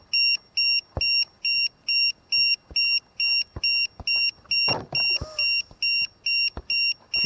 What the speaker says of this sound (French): Peut-être le buzzer qui déconne